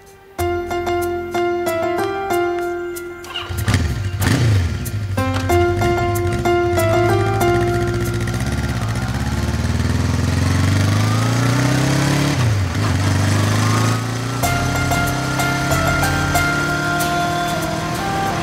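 A motorcycle runs steadily with a continuous engine drone that rises and shifts in pitch as it accelerates, loud and close throughout with no talking over it.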